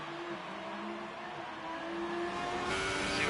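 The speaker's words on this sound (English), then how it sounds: "You can hear how low the RPMs are on Van Gelder's car as they go through Eau Rouge." A sim race car runs at low RPM through Eau Rouge at the Belgian Grand Prix circuit, a steady droning engine note that climbs slightly toward the end, heard alone under a soft whir.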